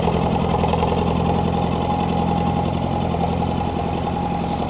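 A David Brown tractor engine runs steadily at idle, a loud, continuous close-up drone with an irregular pop in it and no voices.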